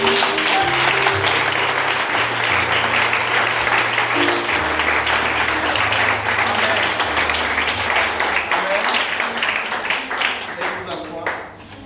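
Congregation at a church night vigil applauding, loud steady clapping filling the room over sustained keyboard chords and some voices, gradually thinning toward the end.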